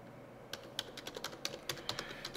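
Rapid keystrokes on a computer keyboard as a command is typed into a Cisco 4400 wireless controller console, with irregular, close-up clicks at a steady pace in a quiet room.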